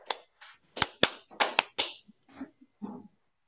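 Sharp hand claps come through a video call in a quick, uneven burst of five or six, thin and slightly compressed, followed by softer faint tapping sounds.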